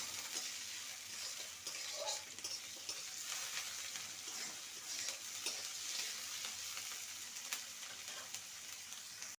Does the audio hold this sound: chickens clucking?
no